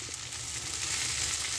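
Tuna and egg topped with a thin layer of cheese sizzle and fry in a pan, a steady close crackle with no talking.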